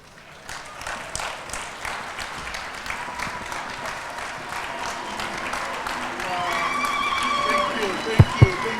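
Applause from a dinner audience honoring the ATIDI annual general meeting, a steady wash of clapping that builds in strength across the clip, with voices mixed in and a couple of sharp knocks near the end.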